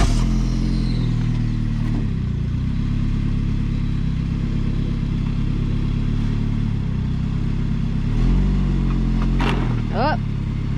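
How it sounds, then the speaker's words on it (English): An older Saab 9-3 Convertible whose transmission slips in reverse backs up onto a ramp, its engine holding a steady low rumble throughout, with a short high squeal near the end. "I'm going to back up on the ramp so we can inspect the exhaust."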